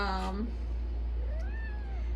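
A house cat meows once near the mic, a short rising call, followed by a faint, thin second meow, all over a low steady hum in an indoor room.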